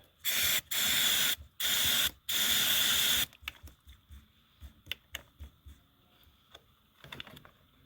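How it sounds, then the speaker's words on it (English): WD-40 aerosol is sprayed into the mechanism of a broken JCB in four loud, close hissing bursts of about half a second to a second each. Quieter clicks and handling knocks follow. "give it a good old dose of the good old faithful WD-40"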